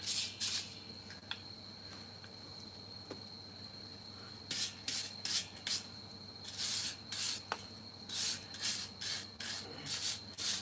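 Scrubbing at a popcorn popper that had been hanging on a nail, heard as faint, irregular bursts of rubbing and scraping, brief at first, then a quick run of strokes near the end, with a steady high insect-like hum underneath.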